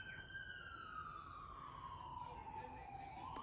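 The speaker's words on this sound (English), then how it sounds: "Okay, ambulance." An ambulance siren passes outside, a faint continuous wailing tone sliding slowly downward in pitch at a distance, over a low steady background hum.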